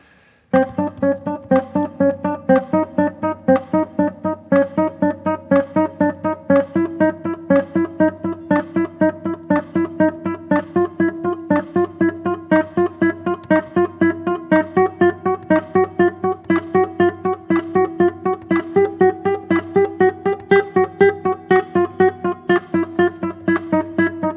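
Steady run of single plucked guitar notes, evenly spaced and continuous, climbing and shifting in a repetitive chromatic finger-exercise pattern with no talking.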